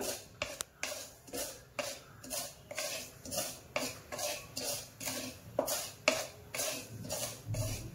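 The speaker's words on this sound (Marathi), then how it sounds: "आपण आता रवा आधी ना कोरडाच भाजून घेऊया। थोडासा भाजायचा कोरडा।" Dry semolina (rava) roasting in a pan for besan ladoo, with a spoon scraping and stirring in a steady repeating rhythm, close and fairly quiet, with no voices.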